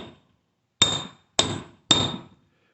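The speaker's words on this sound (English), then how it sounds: "give her a couple of gentle taps with the hammer and it seals it on there" Three gentle hammer taps seat a socket onto a part held in a vise while working on a 1968 Mercedes-Benz 280S, each a sharp metallic strike with a short ringing decay, evenly spaced and close, with no talk.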